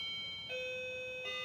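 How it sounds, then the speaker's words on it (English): A house doorbell rings in a quiet room, a clear electronic two-part chime with a sustained tone and then a second strike near the end, heard alone with no talking. "Oh, now the doorbell."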